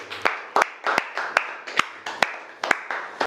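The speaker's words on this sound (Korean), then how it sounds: "박수 한번 주세요." An audience claps in a steady, rhythmic beat during a comic reaction lecture, with sharp, evenly spaced hand claps repeating about every half second, fairly close and without voices.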